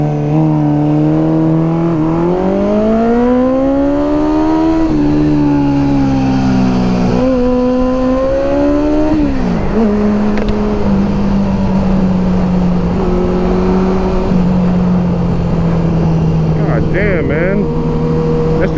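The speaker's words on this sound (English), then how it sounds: "That New York traffic for you" Riding a 1976 Honda CB550 motorcycle through New York City traffic, the engine's drone rises and falls with shifting pitch as it accelerates and slows, loud and close, with someone talking over it.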